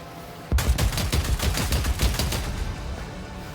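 Heavy weapon gunfire in Warhammer 40,000: Dark Heresy, a sudden loud sustained burst of rapid, evenly paced shots that trails off and fades out after about three seconds.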